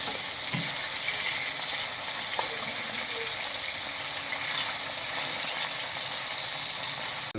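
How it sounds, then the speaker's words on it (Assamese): Steady sizzling of taro frying in hot oil, a continuous bright crackle throughout with a few faint clinks of utensils, no voices. "কচুটো ভাজি ল'ম আগতে, ভাজি পেলাই সিজাই ল'ম।"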